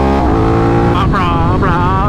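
An Aprilia RS660 Trofeo with a full exhaust, Sprint air filter and race ECU, revved hard up close: a loud sustained roar with two quick rising blips near the end.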